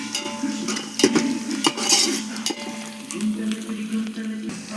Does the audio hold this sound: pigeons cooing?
no